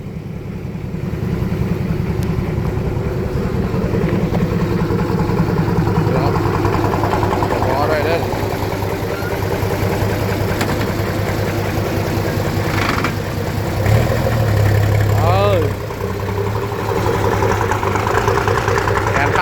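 An excavator engine idles steadily and close by, a continuous low rumble that holds through the whole stretch with small rises in load and some faint clanks over it.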